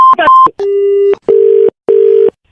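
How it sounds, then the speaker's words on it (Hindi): A garbled phone tone, then a long steady beep followed by two shorter identical beeps with gaps between them, the repeating signal of a dropped call. "शायद फोन कट गया था ना भाई साहब"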